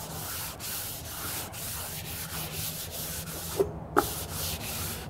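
Pine wood being hand-sanded with 220 grit sandpaper, a soft steady rubbing with rhythmic back-and-forth strokes, close and quiet, with a couple of brief light knocks near the end.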